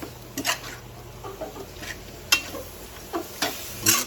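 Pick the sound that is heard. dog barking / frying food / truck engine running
frying food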